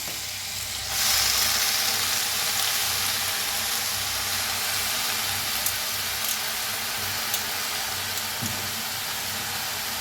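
Dal and fenugreek greens frying in a pan give a steady, close sizzle with a soft hiss that swells after the first second and then holds evenly, with no voices.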